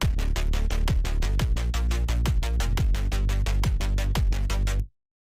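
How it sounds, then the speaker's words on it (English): A fast, driving drum and bass beat with crisp hi-hats on every step and deep kick hits, loud and steady before cutting off abruptly. "I wanted to go for more like a drum and bass kind of beat,"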